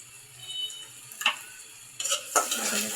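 Sliced green chilies frying in a pan while being stirred, with a quiet hiss at first, then a spatula scrape and sharper bursts of sizzle and clatter toward the end.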